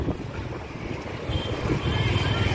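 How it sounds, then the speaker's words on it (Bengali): Strong wind blows across Dhakuria Bridge in Kolkata in the evening, a loud continuous rushing roar buffeting the microphone, with distant city rumble beneath. "কেমন হাওয়া দিচ্ছে বলো, যত বেজে উঠছি হাওয়াটা তো বেড়ে যাচ্ছে।"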